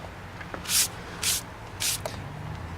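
Three short bursts of spray paint hiss close by, laying a light coat for a DIY non-skid surface, each puff about a quarter second long with brief pauses between.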